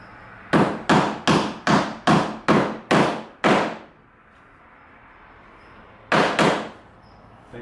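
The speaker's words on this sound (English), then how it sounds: "you tap that in with the hammer, and it should be flush." Hammer taps on a drawer front adjuster while fitting a drawer face: eight sharp, evenly spaced blows in quick succession, a pause, then two more close together, loud and near with no talking.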